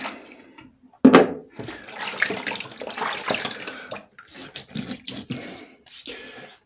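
Cold water running from a tap before a shave with a Parker Variant safety razor, a rushing splash that bursts on loudly after a brief pause and keeps flowing unevenly.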